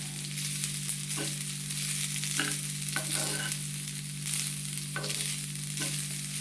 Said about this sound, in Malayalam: ഇതാ മസാലകളെല്ലാം ഇട്ടിട്ട് ഒന്ന് ഇളക്കി കൊടുക്കുക